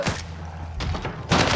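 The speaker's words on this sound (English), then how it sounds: "Did he just shoot you through the wall?" Bursts of automatic gunfire in the video game Warzone, fired through a wall, come in short rattling volleys separated by brief gaps, loud and close with no talking.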